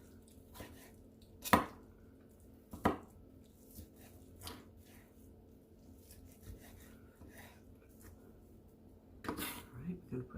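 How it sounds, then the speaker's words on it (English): Birria beef is chopped with a knife on a board: scattered sharp thunks and scraping strikes, a few louder cuts, over a quiet kitchen hum, with a person talking. "let's go ahead and get some of this meat chopped up"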